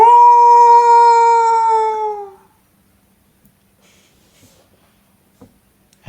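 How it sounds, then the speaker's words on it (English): A howling sound effect played during a tabletop role-playing game, one long, loud, sustained wolf-like howl lasting about two seconds and then fading out, followed by near silence with a few faint clicks. "Claude and Mason, you guys hear a howling sound."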